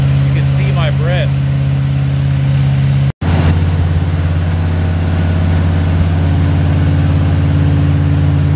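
A 1968 International Loadstar truck engine idles steadily after a cold start, a loud continuous low rumble with a brief dropout partway through and a faint voice early on.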